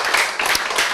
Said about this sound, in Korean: 우리 이지훈께 다시 한번 큰 박수로